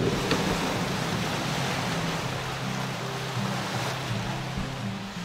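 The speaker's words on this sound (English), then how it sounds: "that's waves crashing in the background" Waves break on the Lake Superior shore near Duluth, Minnesota, as a steady, moderately faint wash of surf mixed with wind rumble, no speech over it.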